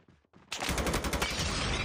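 Rapid M4 rifle fire in a ranked multiplayer video game hardpoint match, opening with a few sparse shots before a sustained, loud automatic burst runs steadily to the end.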